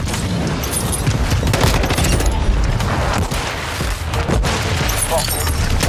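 Rapid bursts of Call of Duty gunfire crackle densely and loudly throughout, with excited voices talking over the shooting.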